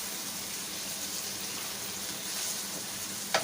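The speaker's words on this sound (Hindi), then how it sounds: "अब हम इसमें पानी डाल देंगे 1 कप।" Water poured into a pan of potatoes frying in masala for aloo gobi, a steady broadband hiss and sizzle running throughout at moderate level, with a brief sharp clink near the end.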